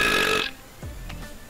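A loud, drawn-out burp from a burping contest opens the moment, followed by a quieter, short croaking belch or two and faint noise, with no speech.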